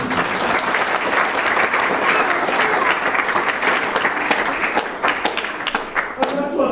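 An anniversary gathering audience breaks into loud, sustained applause: a dense wash of many hands clapping steadily, beginning to thin out and grow patchier toward the end.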